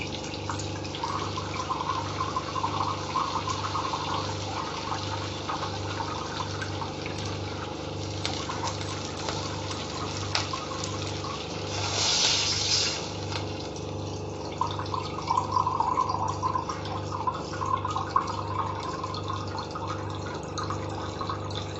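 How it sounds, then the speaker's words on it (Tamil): Two glasses of water trickle and splash into a pan of sautéed ingredients for ven pongal at a moderate level, with a steady low hum and occasional light clinks underneath. "ரெண்டு கிளாஸ் தண்ணி சேர்த்தாச்சு"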